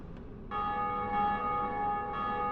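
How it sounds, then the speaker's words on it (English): A church-style bell of awakening rings out in Dark Souls Remastered, a sustained, resonant toll that swells in at once and hangs with a long shimmering decay, loud and alone with no voices. "the bells that you hear ringing, that's because other actual players have just beat the boss and gone and rung the second bell of awakening"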